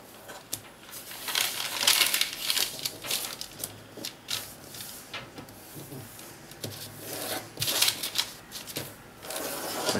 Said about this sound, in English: now just use the point and fold the paper up like this